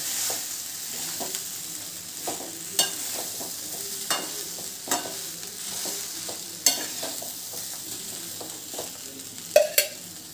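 Vegetable rice stirred in a frying pan, a soft continuous sizzle broken by repeated scraping and tapping strokes of the spoon against the pan, close and fairly even.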